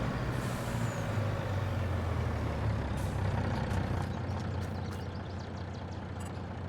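Truck with trailer rumbling along in Farming Simulator 22, a steady loud engine drone with hissing air-brake bursts and short beeps toward the end, no talking.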